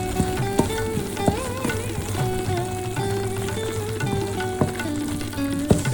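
A gram flour mixture for magas roasts in ghee, giving a continuous crackling sizzle, while a spoon stirs and scrapes the pan with sharp, irregular clicks and knocks.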